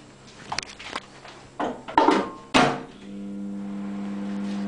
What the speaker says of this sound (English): now I'm just going to put it in the um, microwave.